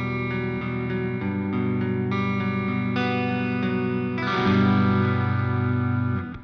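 Electric guitar with a split bridge pickup played through heavy distortion, sustained chords ringing loud and thick, swelling fuller toward the end with no talking.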